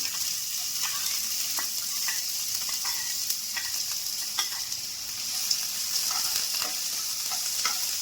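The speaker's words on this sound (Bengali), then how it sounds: "গরম হয়ে গেছে কড়াই, আমি এখন পেঁয়াজ ছেড়ে দিচ্ছি" Onion frying in a hot kadai (wok), giving a continuous close hiss and sizzle, with occasional crisp pops and stirring clicks scattered through it.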